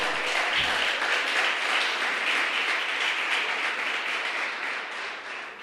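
Congregation applauding during a church sermon, a dense, sustained wash of clapping from a large crowd, fairly distant, slowly fading toward the end.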